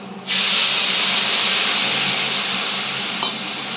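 Spice paste drops into hot oil already tempered with nigella seeds, bursting into a sudden loud sizzle that holds as a steady hiss, with one small crackle near the end.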